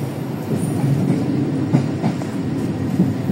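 Steady low rumble and rail noise inside a moving Pasundan economy-class passenger train carriage, a continuous clatter of wheels on track with faint knocks, no talking.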